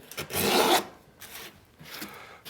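Hand rasp or file scraping across a carved wooden archtop guitar plate, one long loud rasping stroke followed by two fainter, shorter strokes, close up with no talking.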